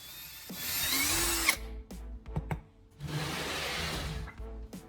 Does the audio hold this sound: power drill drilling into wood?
yes